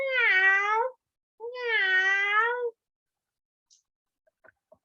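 A house cat gives two clear, drawn-out meows close by, separated by a short pause, followed by silence and a few faint clicks.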